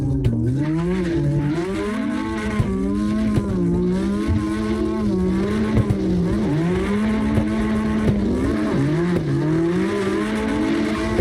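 Car tires squeal continuously with a wavering, pitch-sliding whine while drifting in the CarX Drift Racing Online video game, with engine tone mixed in and loud throughout.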